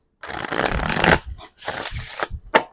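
A deck of tarot cards is riffled and shuffled in two long bursts of dry, papery flutter, close and fairly loud, with a few short taps of cards at the end.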